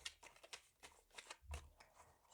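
A tarot deck is cut and handled close by, soft riffling card flicks and papery slaps in quick irregular bursts, very quiet and with no voice.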